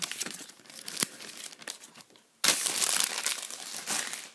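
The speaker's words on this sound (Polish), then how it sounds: "Wyciągniemy sobie pierw saszetki oraz karty." Panini Adrenalyn XL Champions League 2014/2015 card packets being torn open, with crisp foil sachets crinkling and crackling up close, a sharp rip near the middle followed by sustained dense rustling.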